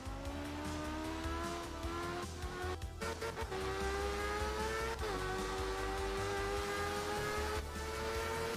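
Rally car engine in the Art of Rally video game, revving hard and steady with shifting pitch, tire squeal during a drift and occasional sharp crackles from exhaust pops, with no talking.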